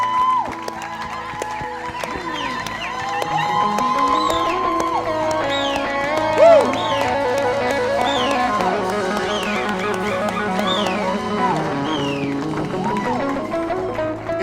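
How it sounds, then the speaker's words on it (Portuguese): A church congregation claps and cheers together as a clap offering at a Sunday service, with a steady wash of hands and voices over ongoing music, loud and sustained throughout. "It's a clap offering."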